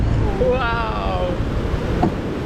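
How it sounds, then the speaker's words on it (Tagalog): Big waves roll and surge on a windy beach, a steady broad rush of surf and wind buffeting close, with a voice exclaiming over the top. "Laki ng alon"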